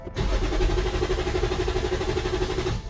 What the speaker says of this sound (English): Start the engine until it runs out of fuel to depressurize the fuel line.